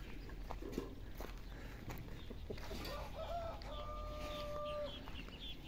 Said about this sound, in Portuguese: um rebanho de galinha aí, dois frangos bonitos, carijó